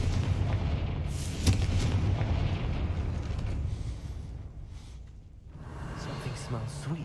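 A Confringo fire spell in Hogwarts Legacy bursts with a sharp, booming blast, followed by a rumbling roar that fades, then rising game noise; a voice calls out the incantation just before.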